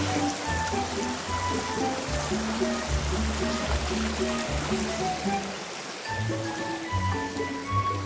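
Hikers wade across shallow stream water on a Mt. Pinatubo day hike, with steady close rushing and splashing throughout and voices talking over it.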